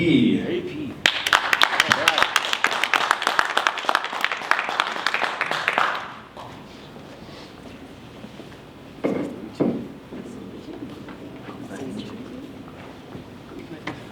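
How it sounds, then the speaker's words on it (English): A crowd claps briskly for about five seconds after a short bit of talk, the dense applause cutting off abruptly into quiet room noise with scattered voices and a few thumps. "Give me an applause for AP"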